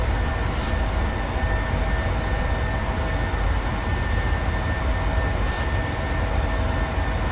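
Steady jet engine roar of a PMDG 737-700 accelerating in Microsoft Flight Simulator 2020, a broad constant rushing drone with a faint high whine, unbroken and even in loudness with no voices.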